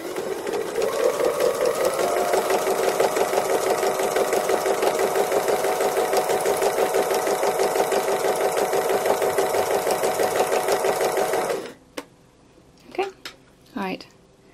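A sewing machine stitches free motion embroidery shading in a steady, loud, rapid whir for about eleven seconds, then stops, leaving a few faint clicks and brief sounds.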